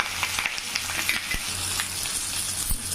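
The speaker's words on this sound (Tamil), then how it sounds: "வேறு ஒரு பேனில் கொஞ்சம் எண்ணெய் ஊற்றிருக்காங்க எண்ணெய் காஞ்சிருச்சு அதில் இது மாதிரி வச்சு அப்படியே மூடி வைக்கலாங்க" Fish wrapped in banana leaf fries in a pan of hot oil with a steady, dense sizzle that carries through the whole clip, plus a few soft clicks and a low hum beneath it.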